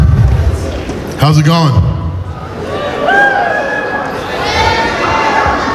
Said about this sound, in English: Lively crowd.